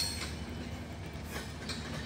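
A long passenger train with many coaches rumbles along the rails, a dense continuous roar with soft clickety-clack beats, moderately close and free of talk.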